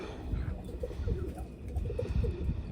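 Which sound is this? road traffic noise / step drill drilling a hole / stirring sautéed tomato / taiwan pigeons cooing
taiwan pigeons cooing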